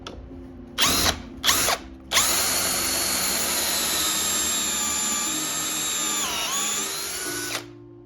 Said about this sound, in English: this is the Craig drill that has a collar set on it at a certain spot